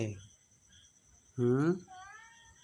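A mother cat cries for her lost kittens, giving one short meow at the start and then a louder, drawn-out wailing meow, with a faint human voice briefly following in a quiet indoor setting.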